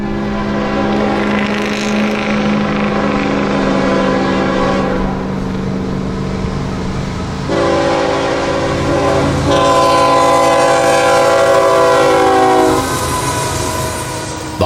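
A long freight train with hopper cars, designated 423, rolls past at Owensboro with a steady rumble of wagons and long horn blasts that swell and fade, loud and close, with no talk.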